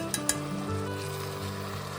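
Mutton coated in ginger garlic paste, red chili powder and turmeric fries in a pot with a steady sizzle, broken by a couple of quick clinks of stirring near the start.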